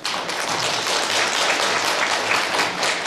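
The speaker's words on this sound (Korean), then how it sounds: "다시 한번 여러분 뜨거운 박수로 좀 부탁드립니다." Warm audience applause at a Korean medical talk show on cancer-prevention diets, many hands clapping in a dense, loud, steady roar lasting the whole stretch.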